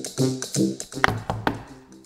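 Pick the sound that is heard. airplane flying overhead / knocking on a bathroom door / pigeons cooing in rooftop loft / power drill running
knocking on a bathroom door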